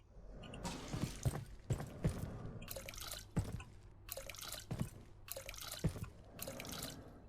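In the video game Abiotic Factor, a container is refilled with liquid in several short bursts of dripping and splashing, each a second or so long, fairly close and with no talk over them.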